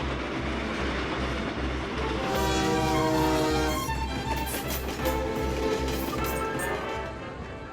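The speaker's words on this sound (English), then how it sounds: "We moved from the steam engine to the diesel locomotive." A diesel locomotive rumbles past with a steady low engine drone and rhythmic rail clatter, while a horn-like tone rises in the middle and fades.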